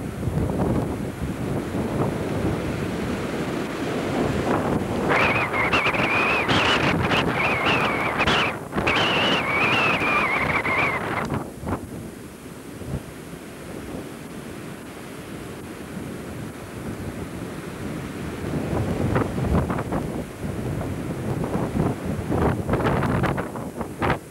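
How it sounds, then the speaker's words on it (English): Wind buffets the microphone outdoors among trees in a loud, continuous rumble that swells for several seconds, eases off, then gusts up again toward the end. "Feel the wind buffeting."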